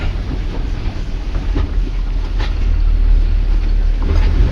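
An empty Tata Signa 10-wheeler truck on the move, heard as a loud, steady low engine drone with wind rumble, continuous and close throughout with no talking.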